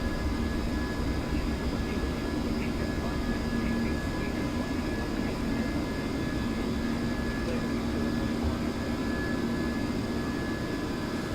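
An airplane takes off in Microsoft Flight Simulator, its engines a steady, loud roar with a sustained whine held throughout, with a voice talking over it at times.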